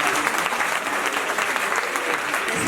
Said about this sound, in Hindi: अपने शिक्षकों के लिए, प्राचार्य महोदय के लिए एक बार जोरदार पुनः तालियां बजाएं।